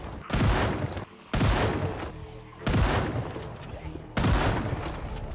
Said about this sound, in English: he decided to hold his ground and test out his new shotgun